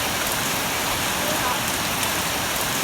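Heavy rain on Cat Ba Island, Vietnam, a dense and steady hiss of big drops pouring down without a break, loud and close throughout.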